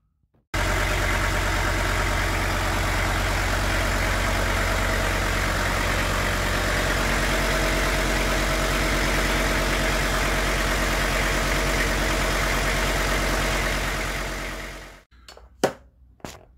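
A car engine fires up and settles into a steady, loud idle that runs almost without change for about fifteen seconds before being switched off, followed by a few faint knocks; the car's radiator has recently been replaced.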